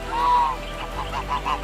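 Unusual ducks at a safari resort give a drawn-out nasal honk followed by several shorter, softer calls, heard nearby over a steady low background hum.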